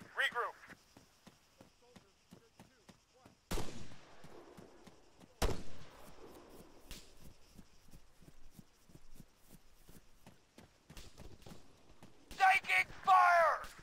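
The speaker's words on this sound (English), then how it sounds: "Taking fire! Enemy fire!" Scattered gunshots in the military video game ArmA 3, a few sharp cracks standing out between quieter stretches, with soft footstep-like ticks and brief voices near the end.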